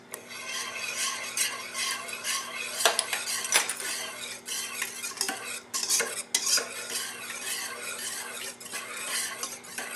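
A whisk or fork beats three eggs with ground cinnamon in a bowl for French toast, a steady quick clinking and scraping against the dish, close and fairly quiet, with no talking.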